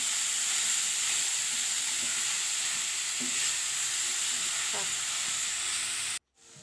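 Carrots for homemade carrot halwa frying in refined oil or ghee, a steady close sizzle and hiss throughout with a few soft stirring scrapes, cutting off abruptly near the end.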